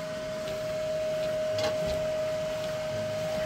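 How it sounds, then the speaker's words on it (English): A Qidi Plus 4 3D printer's chamber heater fan running loud and high-pitched, a steady whine with printer mechanics whirring around it, no voices. "the chamber heater fan is way louder than I remember"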